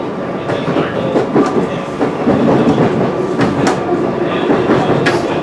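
SEPTA train rolling on rails, heard loud and close from inside the cab: continuous rumble with rhythmic clickety-clack wheel beats over rail joints and occasional squeaky bursts.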